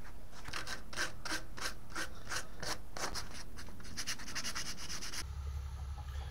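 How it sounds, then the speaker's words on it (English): Sandpaper rubbed by hand along a wooden blowgun to smooth off splinters, a run of rhythmic rasping strokes close up, about a dozen back-and-forth passes, ending in a brief quieter rustle. "I'm gonna take some sandpaper to it,"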